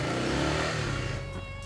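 A motorbike engine revs loudly up close, its pitch climbing then easing off in a single short burst with no voices over it.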